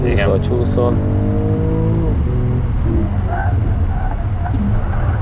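Mercedes-AMG cars, a CLS 53 and an E 53 Cabriolet, lap a race track with a steady loud engine drone and shifting revs, while people talk over it.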